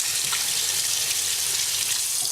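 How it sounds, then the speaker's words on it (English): Water runs from a kitchen sink tap as hands are rinsed beneath it, a steady close hiss of flowing water without a break. "And just rinse our hands here."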